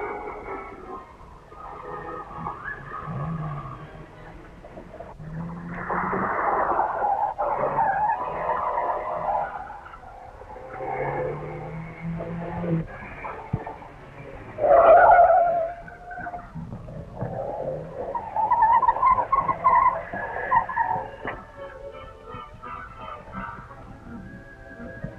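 A Ford 100E car braking hard, its tires skidding and squealing in several loud bursts, the sharpest screech coming midway, with engine noise between stops.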